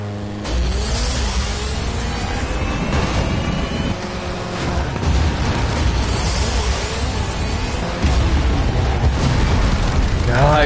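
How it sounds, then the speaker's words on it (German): Loud, continuous roar of engines and crashing booms in a Flatout 4 demolition derby, with repeated explosive bursts layered over constant rumbling noise. "Explodiert alles"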